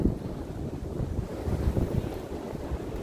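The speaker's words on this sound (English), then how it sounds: "Oh, she does not like that wind." Strong wind gusts buffet a microphone outdoors beside a chicken coop, a steady low roar with surging gusts throughout and no voices.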